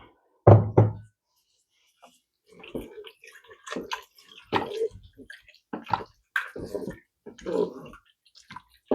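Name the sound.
water poured into Cookeo pot for vol-au-vent filling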